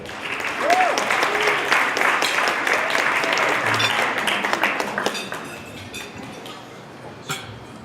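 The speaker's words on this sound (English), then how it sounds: "You call that applause?" Studio audience applause, a broad wash of clapping that swells early and then tapers off toward the end, with a few scattered claps and faint clinks at the tail.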